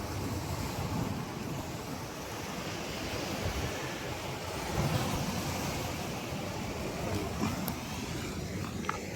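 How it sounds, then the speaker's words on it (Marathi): Arabian Sea waves wash against the ramparts of Suvarnadurga fort near Harnai, a continuous broad rush of surf mixed with wind buffeting the microphone, steady and fairly close. "हे लाट, हे हा अथांग पसरला असा हा अरबी समुद्र आहे."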